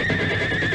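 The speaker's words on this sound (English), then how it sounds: "Call to him. A big whinny now." A horse whinnies in one loud, sustained, close neigh that fills the brief moment, with no voices over it.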